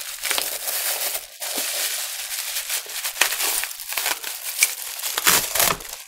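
Pieces of a broken black mug rattle and crinkle inside a mailed parcel as it is handled, a close, busy run of crunching, clinking and rustling bursts with no talk.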